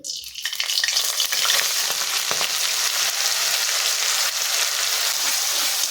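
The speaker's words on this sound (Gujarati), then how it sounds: "ડુંગળીને આપણે અહીંયા ધીમી આંચ ઉપર સાતળી લઈશું." Ground onion paste frying in hot oil with bay leaf, cardamom, cloves and cinnamon for a bottle gourd kofta gravy, a loud steady sizzle and hiss that swells at the start and then runs continuously, close up, with no talking.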